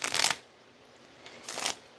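Two quick bursts of a deck of cards being shuffled close by, riffling crisply with a short pause between them and no talk.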